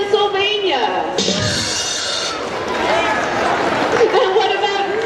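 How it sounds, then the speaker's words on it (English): A large crowd of FRC robotics teams in an arena roars and yells loudly at a 2019 district event's opening ceremonies. The cheering swells and fades over several seconds. "This is the part where you guys get to yell really loud."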